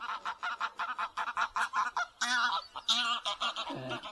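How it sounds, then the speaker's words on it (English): A flock of geese honks repeatedly near a fishing lake at Rookery Waters, a loud rapid series of nasal calls with no talk over them. "There go the geese"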